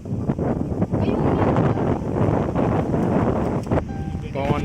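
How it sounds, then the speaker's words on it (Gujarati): Strong wind at Raval dam buffeting the microphone, a loud, continuous low roar with gusty swells throughout, with a voice briefly audible in the background. "પવન પણ બહુ જ છે."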